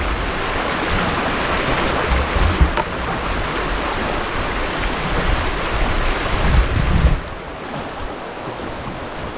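River rapids churn with standing waves in a steady, close rushing roar on a wilderness canoe trip, the broadband water noise dropping slightly after a surge near the end.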